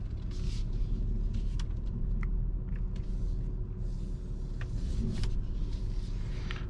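A 2022 Mercedes GLE 580 with a V8 drives through city traffic, heard from inside the cabin as a steady low road and engine rumble with a few faint clicks and ticks, and no talking.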